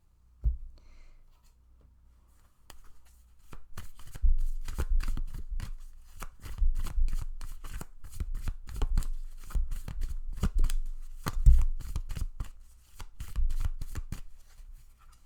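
A deck of oracle cards is shuffled in bursts of crisp riffling and slapping, starting quietly and then turning steady and close, with brief pauses between shuffles and no speech.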